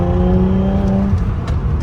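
A 2001 Audi B5 S4 with a six-speed manual pulls from a third-gear cruise into turbo boost, its engine note rising in a brief, loud, close-up surge heard from inside the car.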